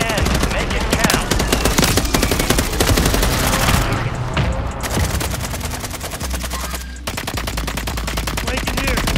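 Call of Duty Modern Warfare III gunfire hammers out as dense, sustained automatic bursts and overlapping shots, loud and nearly continuous with brief lulls, while voices talk over the battle.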